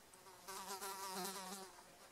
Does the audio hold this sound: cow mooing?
no